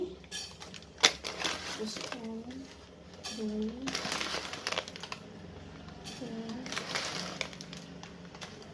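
Spices clatter and scrape in a pan as paneer curry ingredients are stirred, with bursts of metallic utensil knocks and rattles; someone talks over the cooking throughout.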